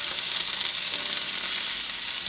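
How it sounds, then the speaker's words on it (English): Steady, close sizzling and crackling of meatless sausages frying in a pan, a continuous bright hiss with no talking. "So they have a nice frying sound."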